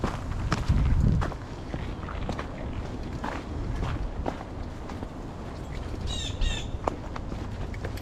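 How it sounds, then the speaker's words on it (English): Birds along a Long Island trail give a few short, sharp chirps near the end, heard over steady footsteps and rustling as someone walks. "Birds are out and chirping."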